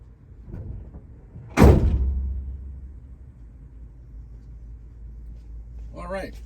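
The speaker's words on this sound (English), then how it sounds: "Let me shut the hood and I will be right back." One heavy metallic slam as the hood of a 1969 Chevrolet Chevelle 396 is shut, a loud close impact with a short ringing decay, preceded by faint shuffling and followed by quiet rumble and a brief voice.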